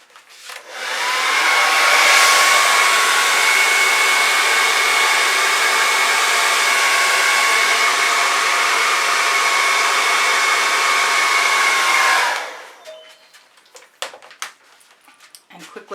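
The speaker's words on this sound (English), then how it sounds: "And pick up my blow dryer." A blow dryer runs steadily for about eleven seconds over an acrylic pour painting. The loud, close whir starts up, holds a constant pitch with a faint whine, then cuts off, leaving light handling clicks.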